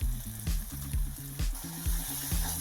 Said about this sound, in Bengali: দিয়ে আমি ভালোভাবে এটাকে কষিয়ে নেব